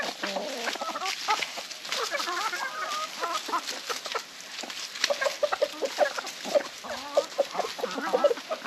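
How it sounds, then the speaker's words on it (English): Chickens cluck busily near and far around ducks in a farmyard, with repeated short calls layered over one another throughout. "the chickens aren't letting them get close"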